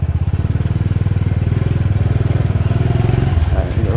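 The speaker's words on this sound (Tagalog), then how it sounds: "Matibay pa itong motor natin" A motorcycle bought in 2010 rides a bumpy, potholed road in New Antipolo, its engine a close, loud, steady throbbing drone with a rapid pulsing beat throughout.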